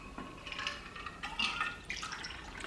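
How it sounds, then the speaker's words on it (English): A cranberry martini cocktail is poured into a sugar-rimmed glass, giving a soft, close trickle and splash of liquid with brief drips over a few seconds. "now what we're going to do is pour our cocktail in here."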